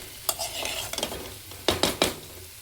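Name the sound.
chicken frying with salt and chili in a kadai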